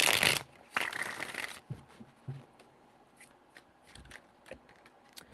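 Tarot cards being shuffled by hand, with two loud bursts of riffling at the start followed by quieter scattered card taps and rustles.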